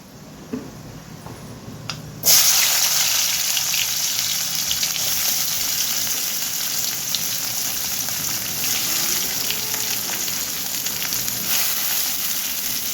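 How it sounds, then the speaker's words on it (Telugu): Sliced onions hit hot oil already crackling with tempering spices, bursting into a loud, steady sizzle that carries on unbroken after an initial quieter hiss. "ఉల్లిపాయలు పచ్చివాసన పోయే వరకు బాగా వేయించాలి"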